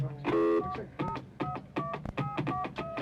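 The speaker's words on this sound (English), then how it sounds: "Watch me be dialing the wrong number." A telephone number is dialed on a touch-tone phone during a 1985 US radio interview broadcast: a rapid series of short beeping tones, fairly loud and close, with brief gaps between them.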